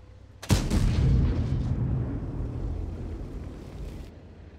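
A single heavy cannon shot from the Object 274a tank in World of Tanks, one sharp loud boom followed by a rumbling decay over several seconds.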